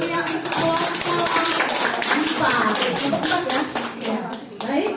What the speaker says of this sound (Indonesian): Tepuk tangan yang meriah untuk kelompok